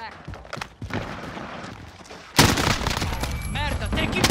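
An AN-94 rifle fires in Call of Duty: Modern Warfare. Distant, muffled battle noise gives way to a sudden, loud, continuous stretch of close gunfire that carries on to the end.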